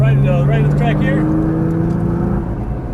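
Nissan GT-R engine droning steadily on a race track, loud and continuous with a tonal hum that shifts pitch slightly, a voice talking over it.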